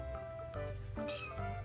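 A cat meows in short, close, tonal calls, several overlapping bursts over less than two seconds against a busy background.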